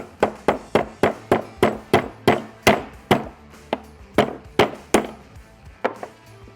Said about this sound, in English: Holding the firing pin and spring in, take a hammer and knock it right back in.